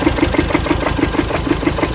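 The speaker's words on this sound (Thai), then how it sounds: "มีเสียงดัง อยู่ในเครื่องยนต์นะ ดังปอกปอกปอกปอก" A running Chevrolet Colorado Z71 engine with a knocking fault gives a loud, steady idle with a regular, evenly spaced thumping pulse beating through it, close and unbroken.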